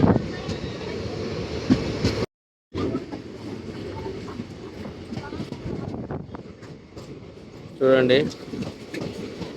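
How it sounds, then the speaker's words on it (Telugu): A goods train of freight wagons rolls past near a station on the Yerraguntla line, a steady broadband rumble and rattle lasting throughout, briefly cut by a gap, with a voice speaking over it and a short tonal sound near the end. "ఈ గూడ్స్ బండ్లు ఇవి."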